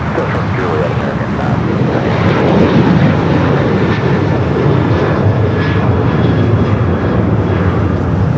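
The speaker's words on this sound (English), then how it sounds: "737-800 with American now rolling down 25 at right." American Boeing 737-800 jet rolling down the runway for takeoff at LAX, a loud continuous engine roar building steadily across the whole stretch, with a voice talking over it.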